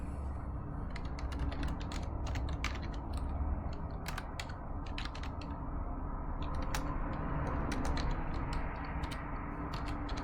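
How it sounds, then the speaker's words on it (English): Typing on a computer keyboard: a steady run of quick, irregular key clicks over a constant background hum, no talking. "So let me type the answer."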